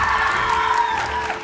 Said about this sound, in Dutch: uw applaus voor Anouk Beyes